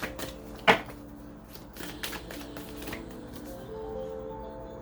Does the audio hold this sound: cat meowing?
no